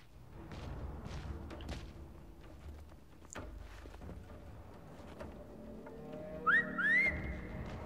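A character in Brothers: A Tale of Two Sons whistles twice near the end, two short, clear rising notes that stand out over soft thumps and low outdoor ambience.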